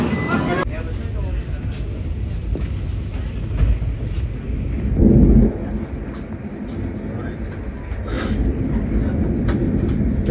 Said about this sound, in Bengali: এই থানে স্টেশন ছাড়লো